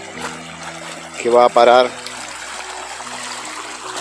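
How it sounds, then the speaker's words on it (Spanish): A small stream at the Puente Amarillo footbridge near Epuyén in Patagonia trickles steadily in the background, while someone talks briefly over it. "Acá tenemos un pequeño arroyo"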